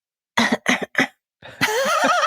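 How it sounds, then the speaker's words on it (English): Three sharp, close coughs in a quick run, then a short pause and a longer rasping throat-clearing cough from one person. "The cough."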